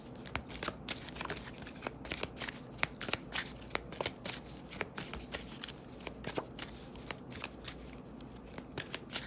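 A tarot card deck being shuffled up close, with quick repeated riffling flicks and soft taps in a steady, busy rhythm, fairly quiet and without talk.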